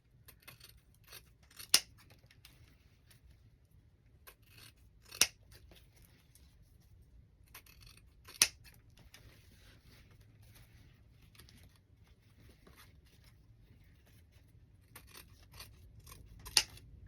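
Scissors snipping ribbon ends at a slant for a large decorative bow: a few sharp, isolated cuts spaced several seconds apart against a quiet background, with faint rustling of ribbon between them.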